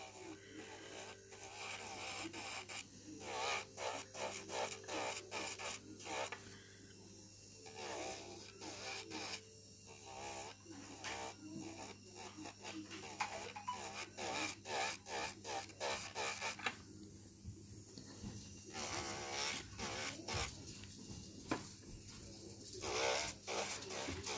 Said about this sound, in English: you're just gently rubbing it over to scratch the surface